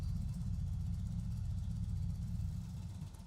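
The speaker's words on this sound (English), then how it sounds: "Start the engine and allow it to idle for 30 seconds." A steady low Indian motorcycle 111/116 engine idles evenly, a constant rumble with no revving, heard close and alone.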